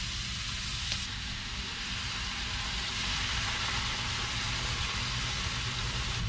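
Fish sizzles and spits in a hot pan in a camper van kitchen, a dense and steady frying hiss that goes on without a break and with no voices over it.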